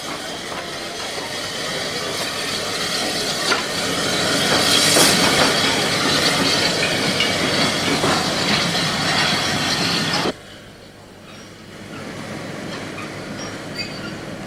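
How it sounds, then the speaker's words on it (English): A Spanish narrow gauge 0-6-2 compound tank steam locomotive rolling into a port station, a loud close hissing rumble with wheel clatter and squeal that swells midway, then cuts to a quieter, more distant scene. "O62 number 5 rolls into the port station."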